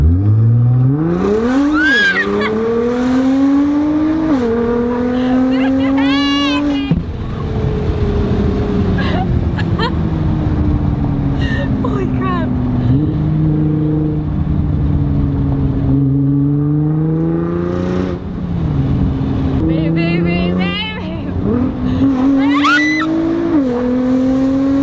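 A 2017 Nissan GT-R with an Armytrix valved exhaust launches hard. The engine revs climb and drop through repeated gear changes with brief tire squeal, loud and close, while voices come in now and then.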